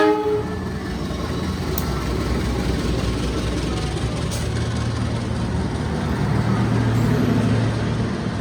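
A train rumbles steadily and loudly close by with a broad, continuous roar, and a long horn note sounds toward the end.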